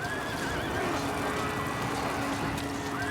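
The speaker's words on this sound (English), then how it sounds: "Then he turns into a rearing horse that nearly knocks him over." A rearing horse whinnies in a video game cinematic, a fairly faint neigh over a steady background bed of game sound.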